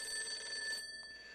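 A telephone rings in the video game Persona 4 Golden, a bright electronic bell trill lasting nearly a second, then a brief faint echo before trailing off, clear and unaccompanied by speech.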